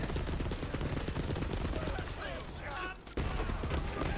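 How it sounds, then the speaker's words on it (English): Rapid automatic fire from a Mark 19 belt-fed grenade launcher in Borderlands 3, a dense continuous burst of repeated shots that runs almost the whole time, with a brief dip just past the three-second mark before the firing resumes. "It's a Mark 19. a belt-fed grenade launcher."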